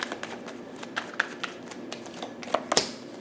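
A deck of tarot cards being shuffled up close, a run of quick riffling flutters and light taps that builds to a few sharper slaps near the end, with no voice over it.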